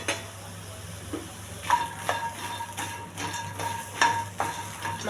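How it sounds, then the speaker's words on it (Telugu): Makhana (fox nuts) tossed and lightly fried in a hot pan on a stove, with soft sizzling and a series of sharp clinks and taps as the nuts and utensil hit the pan. "ఈ మక్కాన వేసి లైట్గా ఎగించాలండి."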